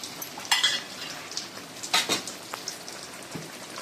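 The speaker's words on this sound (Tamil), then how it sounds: "இதையும் எண்ணெயில் போட்டு நல்லா வதக்கி எடுத்துக்கலாம்" Ginger garlic paste sautéing in hot oil in a pan, a steady sizzle with a few sharp clinks and scrapes of a metal spoon stirring against the pan.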